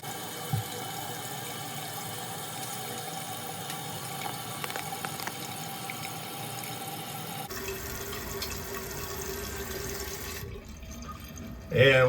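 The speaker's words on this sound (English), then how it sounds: "I'm going to see if the water will fill up in this tank with the flapper back where it should go." Water runs steadily into a toilet tank refilling after a flapper replacement, a continuous hiss and trickle that changes pitch partway through, then quiets as the fill stops.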